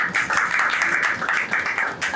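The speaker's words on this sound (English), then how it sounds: "So round of applause" Audience applause at a Jewish film panel in New York, a close crackle of many clapping hands in uneven bursts that swell and dip.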